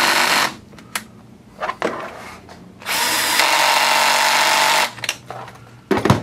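A power driver tightening screws into an Axial Yeti XL RC car transmission: loud whirring bursts of varying length, including one long run, separated by short pauses, close up with no talk.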